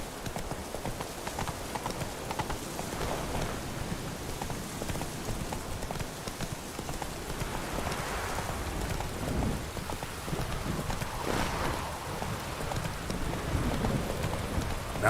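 Roach the horse trotting in The Witcher 3 video game, with steady clip-clop hoofbeats over a constant rain ambience, moderately close and fairly quiet.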